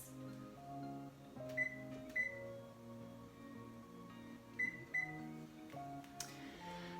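A kitchen oven being set to preheat, its keypad giving short high beeps in pairs over faint background music, quiet and clear, with no speech.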